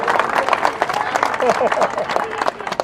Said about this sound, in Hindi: अरे ताली बजा दो जोर से